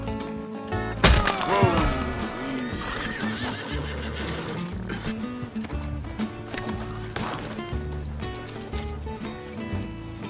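A horse whinnies loudly near the start in Red Dead Redemption 2, followed by steady clip-clopping hooves and thuds over a busy layer of background music.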